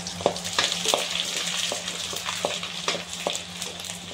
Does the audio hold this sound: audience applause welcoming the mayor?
no